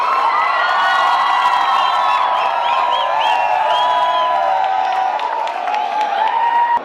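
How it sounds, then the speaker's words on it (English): A large crowd at a college inauguration in Kerala cheers and shouts loudly to welcome a foreign guest, with whoops and excited voices over faint applause, close and sustained. "Give him a huge applause."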